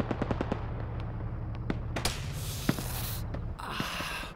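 Scattered distant gunshots in the ArmA 3 military simulation during a Wake Island patrol, isolated sharp cracks and short bursts over a steady low engine-like drone, fairly quiet overall.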